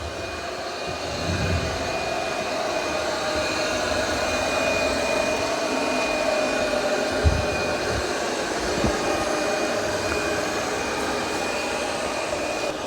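A Roborock Curv 2 robot vacuum runs its first cleaning pass indoors, giving a steady, continuous motor and suction whir with a few soft bumps and knocks, fairly close and alone.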